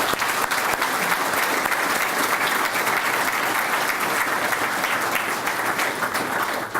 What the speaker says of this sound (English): please join me in a round of applause for the families